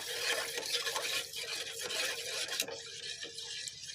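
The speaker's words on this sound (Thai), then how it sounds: "คนให้แป้งละลายก่อนค่ะ คนให้แป้งละลายนะคะ" Flour stirred into unheated coconut milk for pumpkin in coconut syrup makes a busy scraping, swishing spoon sound against the pot, close and continuous for a few seconds, with no speech.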